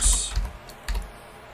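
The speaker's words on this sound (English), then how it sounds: "So here we're going to type a message to our user" A handful of quick keystrokes on a computer keyboard as a message is typed, close and crisp, with a short gap between taps and no talking.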